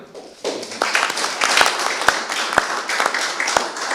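Audience applause after a press conference for the Slovenian Armed Forces day celebration, a dense steady wash of many hands clapping with a few sharper claps standing out, rising after a brief quieter start and continuing throughout.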